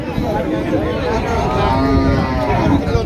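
Friesian dairy cow at a cattle market in Comilla lows in one long, loud moo close by, with market crowd noise and voices in the background.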